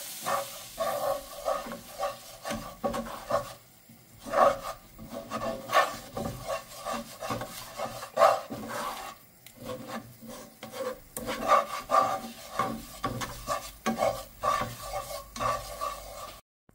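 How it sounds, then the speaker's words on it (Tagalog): Melted butter and flour are stirred into a roux in a pot for chicken vegetable soup, giving repeated close scraping and rubbing strokes in an uneven rhythm with a faint sizzle beneath, no voices. "Tunaw na ang ating butter, so we can put our flour. Mix lang natin siya."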